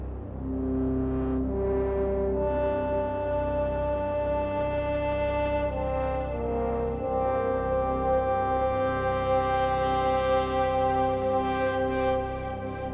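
A sustained synthesizer lead from Newfangled Audio Generate plays a slow melodic line of long, bright held notes over a low bass, smooth and continuous without voices.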